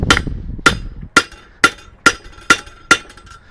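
Sharp metallic hammer blows on a blacksmith's cutoff tool set against cold steel rod, seven evenly spaced ringing strikes about half a second apart, close and loud with a bright clink on each hit.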